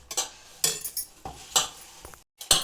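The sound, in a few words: mixing wheat flour dough in a bowl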